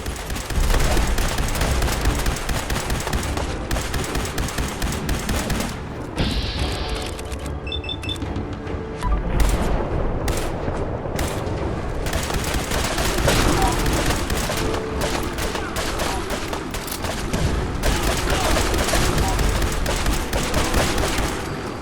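Dense, continuous gunfire and booms in a Fallout 4 battle against attacking Gulpers and Hunters at the Castle, a loud sustained barrage with scattered louder blasts throughout, with voices mixed into the chaos.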